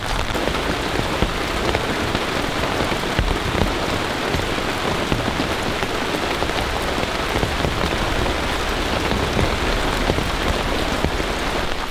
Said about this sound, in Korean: 빗소리였다는 거